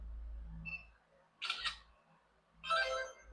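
Camera shutter sound in a DJI drone flight simulator, two crisp clicking bursts about a second apart, with a faint electronic beep and low hum before them.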